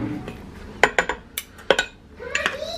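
A spoon clinking against dishes and cutlery beside an Instant Pot of mashed potatoes, several sharp bright metallic clinks in a short cluster, then a couple more, close by and moderately loud.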